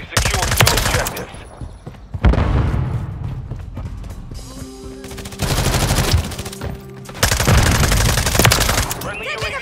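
Call of Duty: Modern Warfare 3 multiplayer Domination match, with loud bursts of rapid automatic gunfire from close by, broken by short pauses and separate sharp shots.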